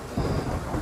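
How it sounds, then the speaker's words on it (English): A brief thunder rumble sound effect, a low steady roll under a soft rain-like hiss, close and alone with no talk. "Looks like rain."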